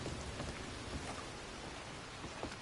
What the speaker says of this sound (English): Man, what a thunderstorm.